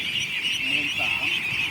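A large flock of young laying ducks being herded across a field keeps up a dense, continuous quacking chorus, loud and unbroken throughout.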